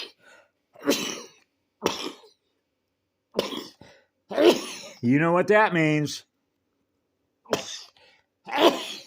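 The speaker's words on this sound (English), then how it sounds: "I'm going to sneeze." A person talks, then a strained, drawn-out vocal burst like a sneeze builds and releases, followed by more speech.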